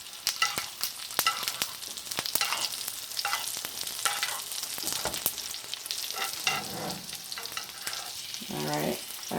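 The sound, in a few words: New York strip steak searing in a heavy skillet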